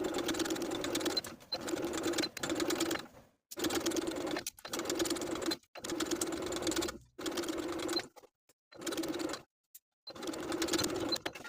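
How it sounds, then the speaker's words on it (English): A sewing machine stitches in the ditch along the folded lining edge of a crop top. Steady bursts of whirring stitching are broken by short pauses, close and alone with no voices. "I'm going to stitch in the ditch from the outside"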